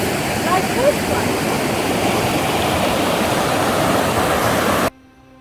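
Steady broadband rush of river water flowing where papyrus grows, a continuous wash like a stream or small waterfall, fairly loud and unbroken before cutting off abruptly near the end.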